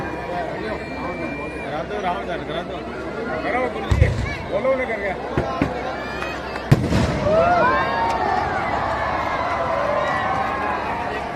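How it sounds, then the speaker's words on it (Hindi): Fireworks pop and crack at a distance during a 51-foot Ravana effigy burning amid a lively outdoor crowd, with a couple of sharper bursts standing out over steady chatter and noise. "दोनों आइटम साथ चलने दो, आतिशबाजी और रावण दहन।"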